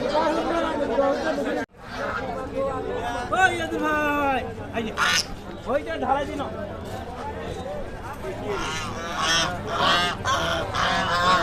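Geese honk repeatedly at a busy market, their harsh nasal calls rising over steady crowd chatter and people talking nearby, loud and close throughout.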